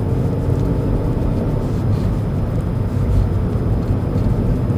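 An Audi A2 driving along a country road, its engine and road noise forming a steady, loud, continuous drone with no breaks and no talking.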